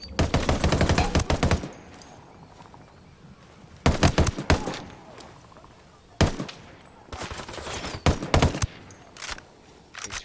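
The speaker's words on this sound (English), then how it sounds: "Fire, fire, fire. Copy that. Target eliminated. Opening fire." Bursts of automatic gunfire in the tactical shooter game Ghost Recon Wildlands, loud volleys of rapid shots broken by quieter gaps, with sporadic single cracks and faint background activity between the bursts.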